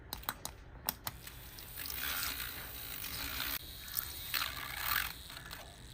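A water phase being blended into an oil phase for a homemade glutathione sleep mask, heard as faint clicks followed by two soft, steady bursts of whirring blending.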